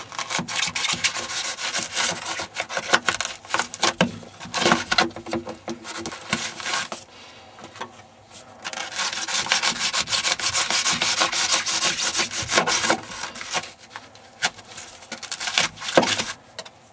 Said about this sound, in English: Make sure that any foam that is too close to the flue is cut away.